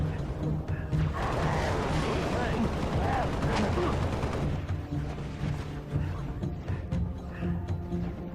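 Assault rifle fire in the video game Halo Reach, sustained bursts of loud gunfire layered with game effects and explosions, running almost continuously throughout.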